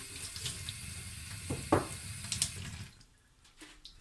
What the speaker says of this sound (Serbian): evo vidite da perem pod mlazom vode